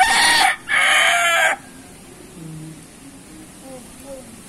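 A loud gamecock rooster crow in two bursts up close, followed by softer clucking from nearby chickens.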